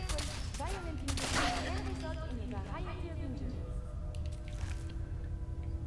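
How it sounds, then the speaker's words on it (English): A gunshot from the companion Curie in Fallout 4 goes off as a sharp, loud burst early on, set among game sounds and voice-like tones, with steady background noise throughout. "I think she just shot me"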